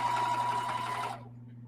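A sewing machine stitching strips of scrap fabric for a patchwork quilt, a steady close whirring hum that runs for about a second, then stops and leaves a low background drone.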